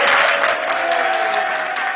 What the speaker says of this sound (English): That's right, clap it up.